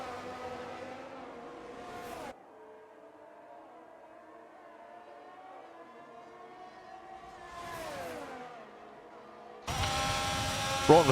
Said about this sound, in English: Broughton with the DRS wide open, absolutely flying past the Mercedes.